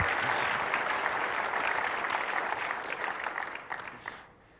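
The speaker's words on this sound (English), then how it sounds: "surely is a round of applause" An audience breaks into applause at a technical talk on Microsoft Azure Service Fabric, a dense steady clapping that holds for several seconds, then thins out and fades away toward the end.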